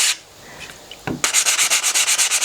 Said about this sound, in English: I'm just going to sand those lightly back.